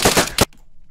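Rapid gunfire in the video game DayZ: a quick burst of several loud, close shots that cut off abruptly into near silence.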